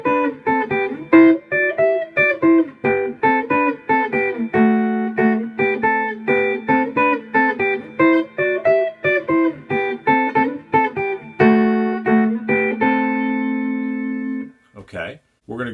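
A guitar plays the intro riff of a song as a steady run of quick melodic picked notes, then a held chord lets ring to close. A brief voice follows at the very end.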